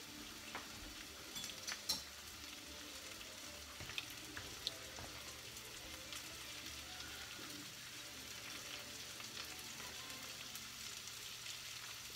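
Beef, onions and peppers fry quietly in a pan with a soft, continuous sizzle and hiss. A few faint clicks and utensil taps come through, and a low steady hum runs underneath.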